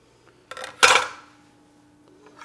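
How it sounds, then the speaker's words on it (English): A knife scrapes chopped shishito peppers and other chile ingredients off a cutting board into a dish. There is a short scrape, then a louder clattering sweep against the dish, close and clear with no talking. "So I'm going to scrape this in here."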